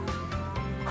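Chickens cluck in a coop in a short close burst of overlapping hen calls, loud and steady for under a second.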